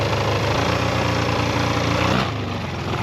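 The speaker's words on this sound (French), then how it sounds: "Ah, tu vois, il est un peu haut le ralenti." A 250 Barossa quad's engine idles steadily at a slightly high speed, a dense, even mechanical drone close to the microphone that dips a little near the end.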